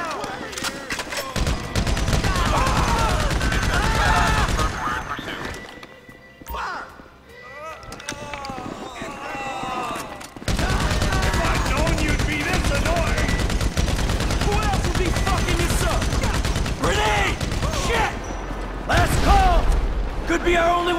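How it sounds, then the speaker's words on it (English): Gunfire in a GTA 5 shootout during a heist, rapid bursts of automatic fire and single shots with weapon clatter, loud and near, mixed with shouted character dialogue. "So I guess we're shooting our way out of here!"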